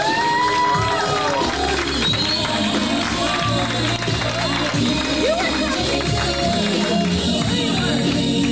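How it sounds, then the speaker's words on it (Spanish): Guests at a quinceañera party cheer, shout and clap together in a lively crowd, close and steady throughout, with children's voices and whoops mixed in. "Es un fuerte aplauso, vamos,"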